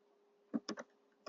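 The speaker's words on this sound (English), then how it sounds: "I'm typing and trying to talk at the same time" Typing on a computer keyboard, heard as a few sharp, quiet key clicks in a short irregular burst and one more tap after a pause, close up and with no talking.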